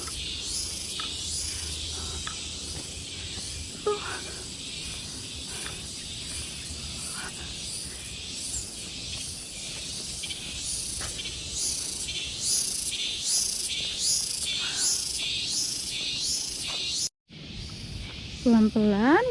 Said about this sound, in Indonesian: Banyak banget suara binatang-binatang, insek,